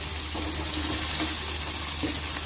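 Chopped tomatoes frying in a pan on medium flame for an Andhra goat mutton curry, a close, steady hiss with a few soft stirring bumps.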